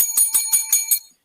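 A small metal triangle struck repeatedly, five bright ringing hits in quick, even succession, close and loud, with the shimmer cutting off abruptly after the last stroke.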